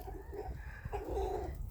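Cochin chickens out on a walk pecking for worms give soft, low clucks, faint and close, with a few murmured calls in a quiet farmyard.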